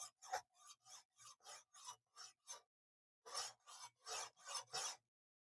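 A knife edge rasped in repeated strokes to cut a diagonal scratch pattern gives about a dozen short, even scraping passes, a brief pause midway, then a second quick run, close and otherwise quiet.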